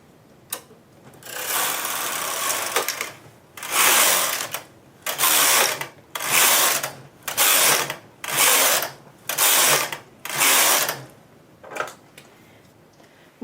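Knitting machine carriage pushed across all the needles, a series of rapid rasping mechanical sweeps in a regular back-and-forth rhythm, about eight passes, loud and close with short pauses between.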